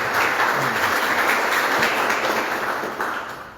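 An audience at a poetry homage gives strong applause, a dense, loud, continuous clapping that holds steady and then begins to taper off at the end.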